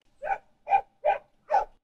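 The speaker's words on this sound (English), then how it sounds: "If your dog is barking" A dog barks four times in a steady, evenly spaced rhythm, fairly close and clear, with no talking over it.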